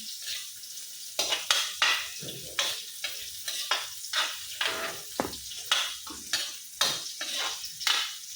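A spatula scrapes and stirs in a pan in a steady rhythm, roughly once a second, over a soft sizzle as laswa, a Filipino mixed-vegetable sauté, cooks with aromatics.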